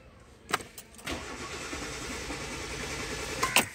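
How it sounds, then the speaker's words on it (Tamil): Car engine cranks repeatedly without catching while a faulty engine control module is being diagnosed; sharp clicks and starter whirring come in short bursts, then a steady mid-level churning with another click at the end, heard up close. "ஸோ வண்டி கிராங்க் ஆகுது, ஸ்டார்ட் ஆகலை."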